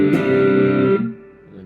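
An electric guitar played through a Strymon Deco V2 tape saturation and doubletracker pedal, distortion pushed up, rings out a sustained chord that cuts off near the end and leaves a fading tail, loud and close with no voices.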